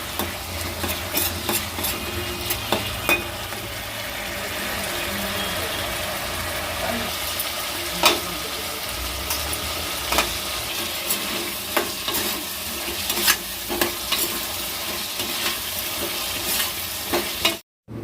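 Vegetable sabzi frying in a pan while being stirred, a steady sizzle with intermittent scraping clinks of the spoon against the pan, continuous and close throughout.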